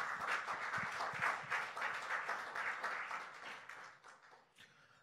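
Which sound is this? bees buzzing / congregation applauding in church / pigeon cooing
congregation applauding in church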